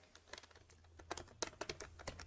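Rapid typing of code on a computer keyboard, a quick run of crisp key clicks that grows denser and a little louder toward the end, close up and without speech.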